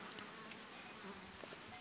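Honey bees crowding the frames of an opened hive at a village apiary give off a steady, close, buzzing hum that never lets up, with a few brief louder passes as single bees fly near.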